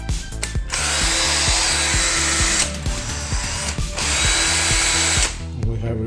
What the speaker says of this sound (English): Now drill is totally okay.